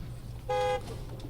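A single short, loud car horn toot sounds as a ride pulls up, over a low idling rumble of traffic.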